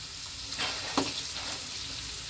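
A steak cooks slowly in a pan with thyme and parsley leaves, giving a soft, even sizzle with one or two brief stirring clicks, close and fairly quiet with no voices.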